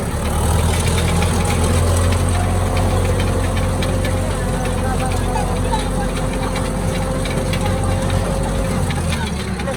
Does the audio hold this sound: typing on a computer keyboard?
no